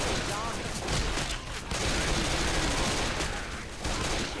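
Dense, continuous gunfire from the co-op zombie shooter Left 4 Dead 2, loud bursts of rapid shots packed together with barely a pause across the whole stretch.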